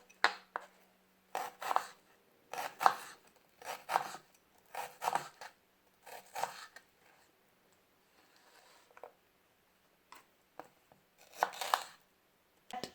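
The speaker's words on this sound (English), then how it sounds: "So I'm going to cut the onions." A knife chops onions on a cutting board in short bursts of crisp, rasping strokes, close and fairly soft, with brief pauses between runs and no speech.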